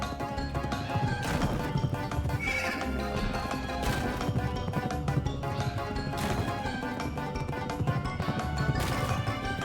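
Horse neighing and hooves clip-clopping in the video game Pumpkin Jack, steady and loud within a dense, continuous wash of game sound and music, with sharper hits recurring throughout.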